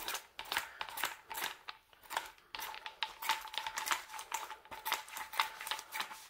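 Coffee-dyed paper, crumpled and gold-foiled in places, rolled by hand in a continuous dense crackle and crinkle with sharp rustling bursts, close and fairly loud, no talk.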